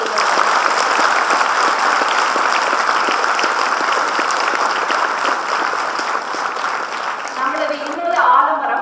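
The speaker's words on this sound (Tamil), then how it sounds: "அதற்காக மிகப்பெரிய ஒரு கைத்தட்டலை நாம் அவர்கள்" A large audience at a university event for a visiting Tamil Nadu police chief gives sustained, loud applause. Many hands clap continuously for about nine seconds while a voice speaks faintly underneath.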